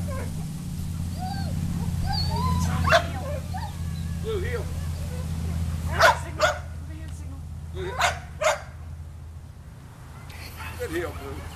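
A blue heeler dog gives a few sharp barks and soft whimpers, close by, amid a low steady background hum, with scattered short yelps spaced over several seconds.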